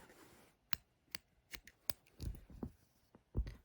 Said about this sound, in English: I think my scissors might be getting a little dull.